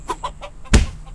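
Chicken in the farming game Russian Village Simulator 3D gives a few short, soft clucks, followed by a louder, sharper flap or squawk-like burst near the end.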